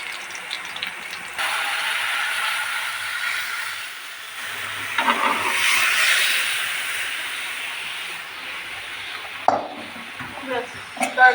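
Crushed garlic fries in hot oil with a steady, close sizzle and hiss. The sizzle swells briefly as the pan is stirred, and a few clinks and scrapes come near the end.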